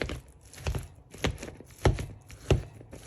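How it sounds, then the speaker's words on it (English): Boiled potatoes being smashed for a potato and vegetable samosa filling: about half a dozen irregular, close, dull thuds, each with a short knock, spaced apart over a quiet background. "So just smash up the potatoes."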